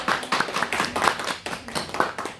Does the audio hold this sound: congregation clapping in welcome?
yes